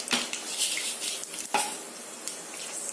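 Fenugreek seeds with mustard seeds spluttering in a hot pan for Kerala-style egg curry with coconut milk: sharp, close crackles and pops over a steady sizzle, with a brief clink of a utensil.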